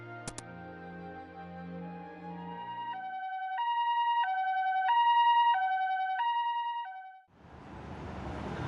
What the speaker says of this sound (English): It was the ambulance siren coming.